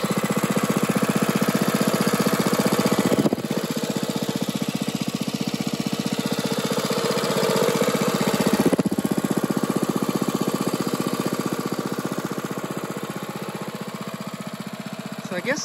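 A small gas engine on a 2-inch trash pump idles outdoors with a steady, rough, even chugging that fills the whole stretch, dipping briefly twice and easing slightly near the end.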